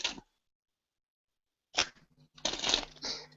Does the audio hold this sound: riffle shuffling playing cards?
yes